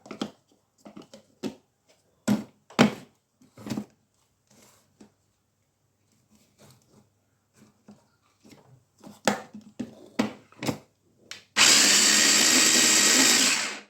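Molokhia leaves minced in an electric food chopper: a string of short separate pulses and taps, then one loud continuous motor whir that runs steadily for about two seconds at close range.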